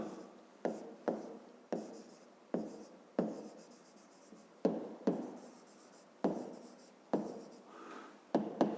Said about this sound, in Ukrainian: Пишемо тоді прості числа.